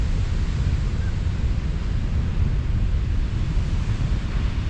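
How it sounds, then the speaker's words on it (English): Big ocean waves crash on the shore at Shelter Cove on California's Lost Coast, a continuous loud roar of surf mixed with wind buffeting the microphone. "waves over here are really exploding sometimes."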